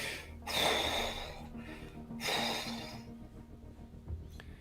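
A voice mimics heavy, rasping breathing for a trapped figure at a ruined mining camp during a tabletop role-playing session: two long, loud breathy gasps, close up, with a faint low hum underneath and no words.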